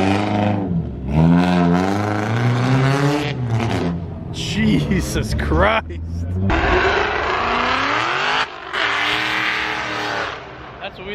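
A wide-body 240 car revs hard as it pulls out of a car show. The loud, close engine note climbs and falls repeatedly while people talk and exclaim over it.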